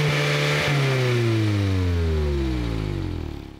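A Mazda MX-5 RF with a 2.0-litre, 184 hp engine revs loudly up close, then its pitch sweeps steadily down as the revs fall away, with no one speaking.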